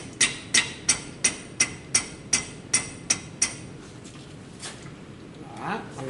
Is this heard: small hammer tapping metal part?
yes